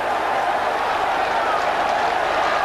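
A football crowd roars at The Den, Millwall, in a steady, dense wash of cheering and clapping that stays loud and distant-sounding throughout.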